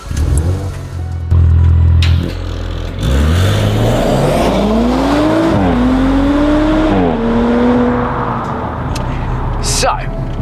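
An Audi RS5 pulls away and accelerates, its engine note climbing through several gears with rising and falling pitch under a person talking, recorded from inside the car.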